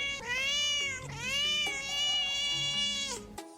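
A furry white Persian cat meows loudly and close up in two long, drawn-out wavering calls, followed by a brief soft sound at the end.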